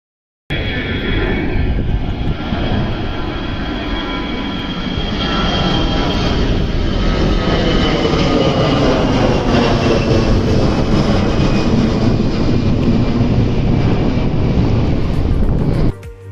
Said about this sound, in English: We just had a big noise, but it was coming by the engines of an airplane